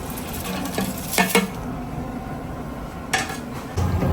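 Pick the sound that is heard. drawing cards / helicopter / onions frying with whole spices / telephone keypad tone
onions frying with whole spices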